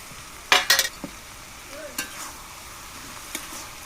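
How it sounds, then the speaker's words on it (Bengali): Bottle gourd curry with egg in a pan, a low continuous sizzle with a few sharp spoon scrapes and clanks near the start and a couple of lighter strokes later, no talking. "এবার একটু নাড়িয়ে ডিমটা ওর মধ্যে দেবো।"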